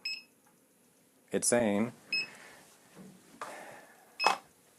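A Prusa i3 MK3 3D printer beeps a few short, high tones when it pauses for a filament change, quiet and close, with a person speaking briefly between the beeps.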